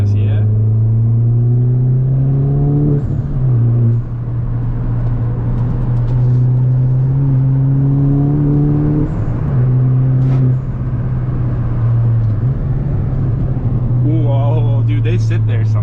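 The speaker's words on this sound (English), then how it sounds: "let's get into some spirited driving" A Mini Cooper R56 John Cooper Works engine drones and revs from inside the cabin on a wet backroad, pulling through gears with steady rises and shifts while someone talks over it now and then.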